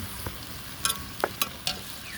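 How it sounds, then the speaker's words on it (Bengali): Ground spice paste of garlic, ginger, cumin, chili, turmeric and coriander fries in oil for a Pangasius fish curry with raw mango. A low sizzle sits under several sharp spatula scrapes and taps in quick succession, close and fairly quiet, with no voices. "এখন আমি মশলাগুলোকে ভেজে করবো"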